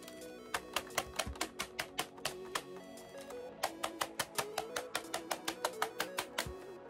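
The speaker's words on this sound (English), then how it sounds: "just tap the back of the keyboard to get rid of the crumbs" A mechanical keyboard is tapped repeatedly on its back to knock out crumbs, giving two runs of sharp, evenly spaced clattering knocks with a short pause between them, close and fairly quiet, with no talking.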